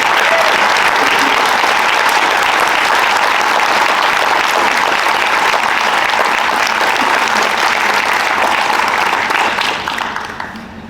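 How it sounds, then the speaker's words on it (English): A large school audience applauds staff, a dense, loud, steady wash of clapping that holds for about ten seconds before starting to fade at the end. "I think this would be the right time to applaud these talented team of professionals"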